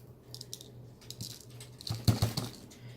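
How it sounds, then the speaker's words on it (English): A sharp, long kitchen knife scrapes the seeds and ribs out of a halved jalapeno on a cutting board, making light, soft scraping and tapping clicks that build to a slightly louder burst near the end. No one speaks. "I'm just going to scrape all those seeds out of there"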